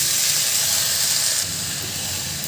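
Potatoes and cauliflower hit a hot pan with fried onion, dry chillies and green chillies, giving a steady, loud, hissing sizzle that carries on without a break and eases off slightly partway through.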